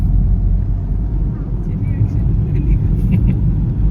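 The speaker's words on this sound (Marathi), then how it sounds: "आमचे भाऊ गाडी चालवत्यात." A car being driven through hilly countryside near Alibag gives a steady low rumble of engine and road noise filling the whole span, with no voices over it.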